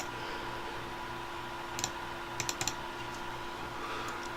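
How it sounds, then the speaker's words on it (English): Several quick keystrokes on a computer keyboard in two small clusters, faint and close, against a steady background hiss with no talking. "I'll type it with letters."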